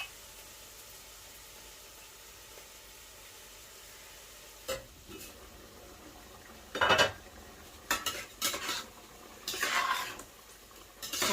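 Chopped onions with turmeric powder frying in a pan, a steady low sizzle running throughout, broken by several louder bursts of stirring and utensil scrapes against the pan in the second half; no talking.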